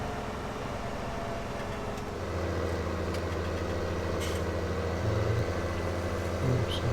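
A heavily loaded tractor engine in Farming Simulator 17 hums low and steady, its tone shifting to a deeper, fuller drone partway through, with faint clicks over it.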